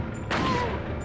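Gunfire in Resident Evil 4 bursts out as a loud, broad blast followed by a sustained noisy rumble and decaying ring, fairly close and dominating the short moment.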